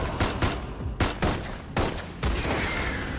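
Loud bursts of gunfire in the Love and Deepspace video game during a fight in a hotel lobby, several sharp volleys in quick succession with short gaps, close and punchy.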